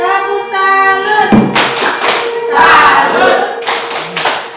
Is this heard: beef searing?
no